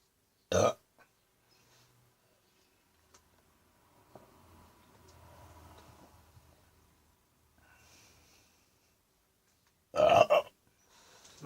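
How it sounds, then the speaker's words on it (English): Smokey the cat lets out two loud, abrupt burps about ten seconds apart, with quiet breathing and faint shuffling in between. "gonna do some more burping for you"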